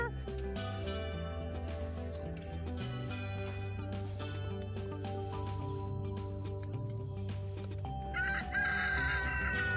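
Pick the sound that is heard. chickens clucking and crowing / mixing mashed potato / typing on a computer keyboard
chickens clucking and crowing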